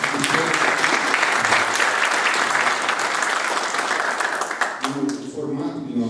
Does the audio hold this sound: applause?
yes